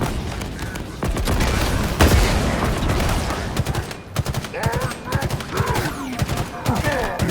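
Halo Infinite firefight with sustained rapid gunfire, dense automatic bursts and individual loud shots, a heavy thump near two seconds, continuing steadily under faint voice chatter.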